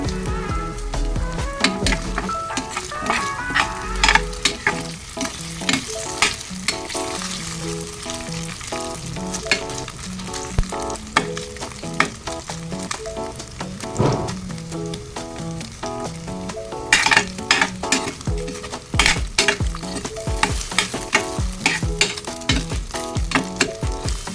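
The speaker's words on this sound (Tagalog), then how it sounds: "Prito-prito muna natin para hindi maduro." Luncheon meat fries in a pan with a loud, crackling sizzle, dense popping and spattering throughout, close up with occasional sharper bursts.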